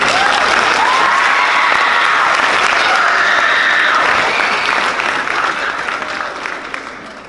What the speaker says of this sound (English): one more round of applause for those